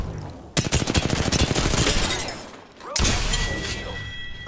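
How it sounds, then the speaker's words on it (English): Enemy gunfire in the Apex Legends shooter game: a rapid automatic burst of shots, then a short lull and another loud volley, with in-game voices faintly underneath. "The enemies are shooting at me."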